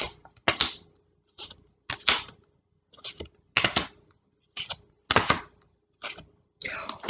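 Tarot cards being shuffled and drawn, a series of short, crisp riffling and slapping bursts separated by brief silences, close and fairly quiet, with no talk.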